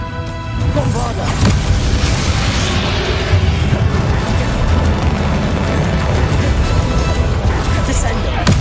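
The Bombarda spell from Hogwarts Legacy goes off as a loud, booming blast, followed by sustained rumbling and crackling debris. It sounds close and powerful, with a voice speaking over the game audio.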